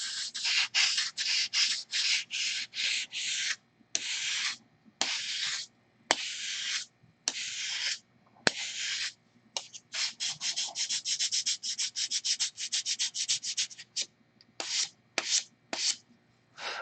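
Sandpaper rubbing in quick, even strokes, with short pauses between bursts and a fast flurry in the middle, close and alone.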